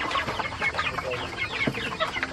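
A flock of hungry pet chickens clucks and squawks busily nearby, overlapping calls rising and falling continuously with no talking.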